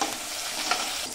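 Onions sizzle in hot oil in a pan with turmeric, cumin and fenugreek powder added, a steady close hiss with a brief louder crackle midway and no voices.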